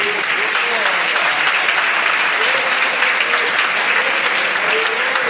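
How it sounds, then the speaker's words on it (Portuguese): Loud, sustained applause from a large church congregation, dense and continuous, with faint voices calling out underneath. "Palmas para Jesus."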